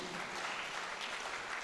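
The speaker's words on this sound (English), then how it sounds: "let us give a befitting hand clap to Professor Ileta." Brief, faint applause from an audience at a university graduate symposium closing ceremony, a soft, distant wash of clapping hands.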